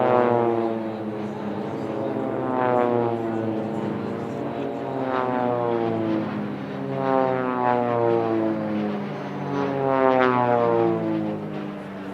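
Jet aircraft from an F-18 Hornet display team fly past at the Leszno airshow, a sustained loud engine roar with sweeping, shifting harmonic tones as the jets pass, continuous throughout.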